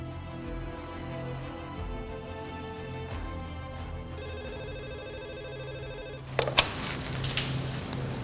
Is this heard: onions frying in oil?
no